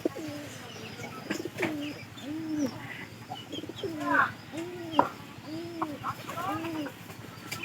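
Pigeons coo again and again in soft, rounded, rolling calls, several birds overlapping at a moderate distance.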